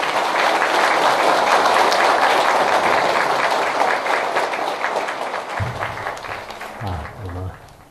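An audience at a university lecture hall applauds to welcome a Buddhist speaker, a dense wash of clapping that gradually thins out and fades, with a voice briefly emerging near the end.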